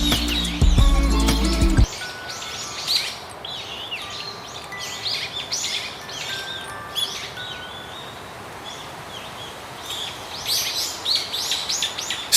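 Satyr tragopan calling, repeated short chirping bird notes of moderate loudness over a soft hiss, after a brief opening burst of music.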